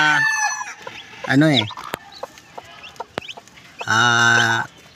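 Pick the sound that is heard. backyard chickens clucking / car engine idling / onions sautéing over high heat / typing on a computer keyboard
backyard chickens clucking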